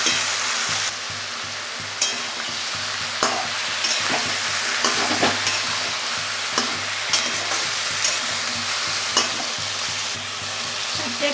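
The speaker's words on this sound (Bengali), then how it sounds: "খুবই অল্প তেলে রান্না করছি। দেখো, এবার ছেড়ে দিলাম।" Vegetables frying in a little oil with salt, sizzling steadily near the pan while a utensil stirs and scrapes at irregular intervals, with no talking.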